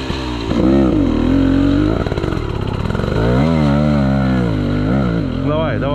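Motorcycle engine revving hard on the throttle during an enduro race prologue, a loud, close, rising and falling roar that swells in repeated bursts for several seconds, with shouting voices mixed in.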